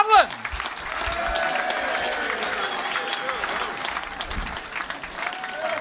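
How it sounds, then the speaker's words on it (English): A comedy club audience gives a sustained round of applause welcoming a comedian to the stage, with crowd cheering mixed in and a brief vocal sound at the start. "Thanks very much for that lovely round of applause."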